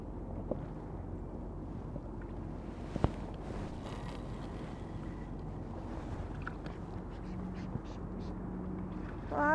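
A duck-like bird calls faintly near a fishing boat on open water. The sporadic short calls sit under constant wind and water noise, with a sharp knock partway through.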